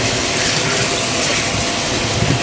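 A strong, steady stream of water pours from a new, wider kitchen faucet, gushing continuously and loudly at close range with no pauses.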